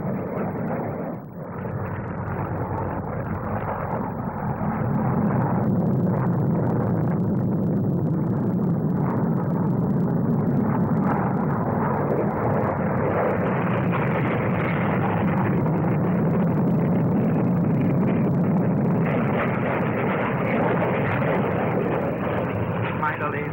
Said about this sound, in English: Basic 5 aircraft of the aerobatic team, cutting the sky with lovely curves.